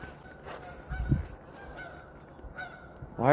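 Geese honking outdoors in a snowstorm, a few calls scattered across the moment with a louder burst at the end, against wind and ambient noise.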